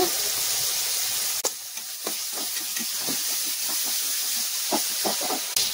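Tomatoes cooking in a pan: a constant hissing sizzle with intermittent scrapes and knocks as they are stirred, close and steady, with no one talking.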